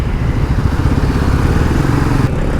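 A Bajaj Pulsar NS200 motorcycle rides through city traffic, its engine giving a loud, close, continuous throbbing drone with rumble and rattle throughout, and no speech.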